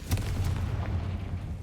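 A Confringo blasting spell in the video game Hogwarts Legacy, set in a tomb-like mine, produces a short, deep explosive boom followed by a low rumbling tail.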